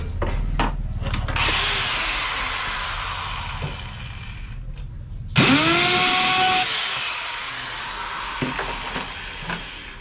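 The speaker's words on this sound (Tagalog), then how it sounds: "mas madaling i-grind to pag nandito sa labas" PVC pipe being ground with a power tool for a chicken feeder, two loud, close bursts of whining, rasping grinding separated by a short drop as the tool winds down, no talking.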